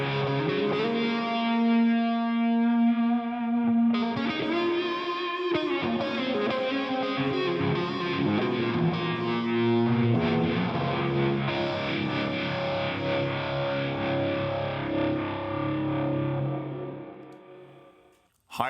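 Electric guitar through the Overloud TH-U Psycho Rocker wah preset, heavily distorted with sustained chords and riffing for about eighteen seconds, steady and loud, alone before cutting off abruptly at the end.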